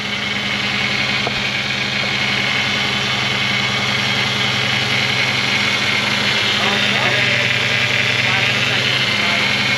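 A broken Honda engine runs rough and misfires, a loud, steady mechanical drone with uneven low pulses throughout, close to the listener.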